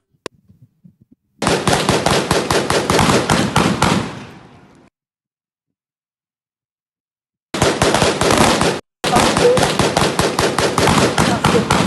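Loud, rapid automatic gunfire rattles off in long continuous bursts, the first trailing off, then a gap of silence before two more bursts close together, during a shootout involving Kenyan police.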